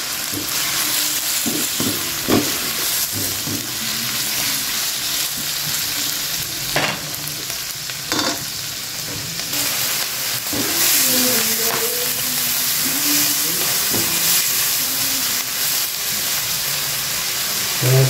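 Sponge gourd sautéed with a little meat and moringa leaves in a pan, sizzling and hissing steadily throughout, with occasional stirring scrapes and clinks close by.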